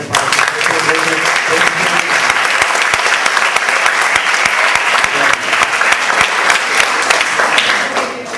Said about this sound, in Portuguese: através de uma calorosa salva de palmas